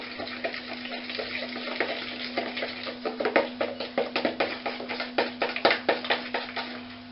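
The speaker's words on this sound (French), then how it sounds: "Allez hop, vous mélangez énergiquement." Sugar and batter for a Normandy apple tart are beaten hard in a bowl, giving a quick run of rhythmic scraping and tapping strokes that grow louder and sharper toward the end, close and with no talking.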